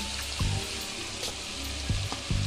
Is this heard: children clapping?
no